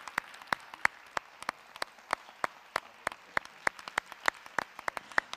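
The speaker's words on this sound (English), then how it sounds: "I would ask a very heartfelt round of applause for all those that weren't on the scene" Sparse clapping from a conference audience, a few distinct individual claps spaced irregularly, fairly quiet and close, with no voices over them.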